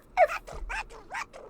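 A dog in The Sims 4 lets out a quick series of about six short, sharp barks in a row, clear and close against a quiet background.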